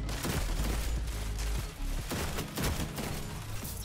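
Rapid gunfire from the Monarchy Scout rifle in Destiny 2 rattles on continuously in a dense, loud barrage amid game effects and music, with no clear speech.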